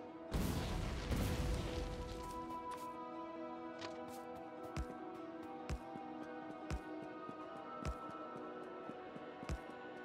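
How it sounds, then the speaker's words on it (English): Grenades detonate in the factory-building game Factorio, a run of sharp, well-spaced booms roughly once a second after an initial dense rumble, over a steady hum of machinery. "Let's grab some grenades and clear this out."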